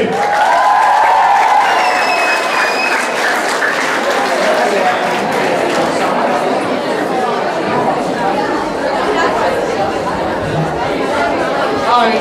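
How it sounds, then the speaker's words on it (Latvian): Class 8C receives sustained crowd applause after their dance at a school team event, dense and loud throughout, with chatter and cheering mixed in and a few whistle-like tones early. "8. C aplausi!"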